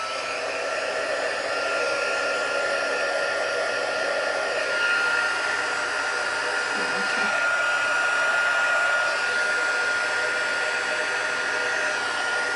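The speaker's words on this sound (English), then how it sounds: "I'm just gonna do this with my heat tool then, so it will go a bit noisy" A craft heat tool blows hot air over a watercolour card, giving a steady, loud whooshing hum that runs unbroken and close for the whole stretch.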